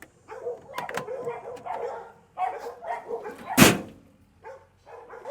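Otto, a dog, letting out a series of short, close barks and yips in irregular bursts, with one sharp loud bang partway through.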